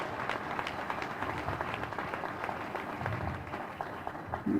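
An audience at a church celebration of a cardinal's 40th episcopal ordination anniversary, reverend fathers among them, claps steadily. The dense, even applause fills the room without a break for several seconds.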